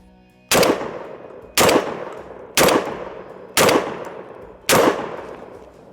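A Mossberg 940 Pro Tactical shotgun fires five sharp, loud shots at steel targets, evenly spaced about a second apart, each blast followed by a short ringing decay.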